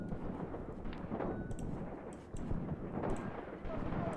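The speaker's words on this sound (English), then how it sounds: "And I hear the artillery." Distant artillery fire in the Graviteam Tactics war game rumbles as repeated low booms over a dense, continuous battlefield roar, with sharper cracks here and there and a voice talking over it.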